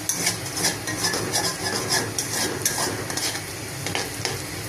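Onions fry to a brown colour in a pan, giving a loud, continuous sizzle. A spoon stirs them at a brisk, regular pace, and clinks of metal on the pan break through without any talk.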